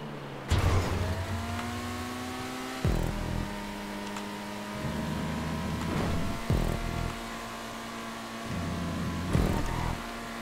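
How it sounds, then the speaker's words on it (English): A racing car in GTA 5 Online roars and repeatedly bogs down, its engine note dropping out in cuts before revving back up in several loud surges, with no voices over it. "I can hear the engine bogged down by the catch-up."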